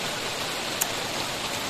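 Rain begins to fall outdoors, a steady, even hiss of drops, soft and diffuse throughout, with one tiny tick near the middle and no voices.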